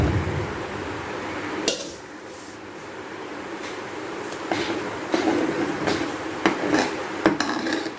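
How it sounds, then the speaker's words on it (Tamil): Oats stirred into bubbling sambar in a pressure cooker, heard as scattered metallic scrapes and clinks of a spoon against the pot, growing busier toward the end, with a steady low background rumble and no speech. "இப்போ ஓட்ஸ் கொஞ்சம் கொஞ்சமாக போட்டு நல்லா கிண்டுங்க."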